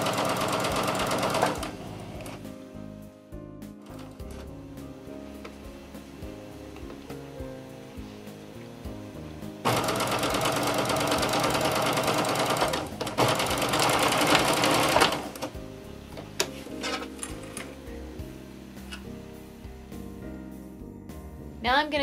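A sewing machine stitches a T-shirt seam in close, steady whirring bursts, a long run at the start and another through the middle, with quieter handling and pauses between them.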